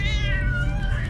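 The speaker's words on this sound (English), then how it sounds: "The boy has a cat clutched tightly in his hands, squeezing it so hard that the animal cries in pain." A cat squeezed tightly in a boy's hands cries out in pain, one long, loud, wavering meow that slides downward in pitch, close and alone over a low rumble.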